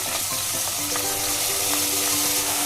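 Spices sizzle and crackle in hot oil in a pan for a one-pot Tamil Nadu style veg brinji, with a steady dense fry and a faint stir tone. The sound is close and continuous, with no voices.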